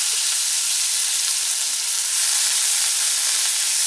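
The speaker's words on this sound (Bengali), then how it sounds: "দিয়ে দিচ্ছি এর মধ্যে কুচানো পেঁয়াজ" Chopped onion hits hot oil that already holds black cumin, for a Bengali eggplant and poppy seed dish, setting off a loud, steady, close hissing sizzle that holds evenly throughout.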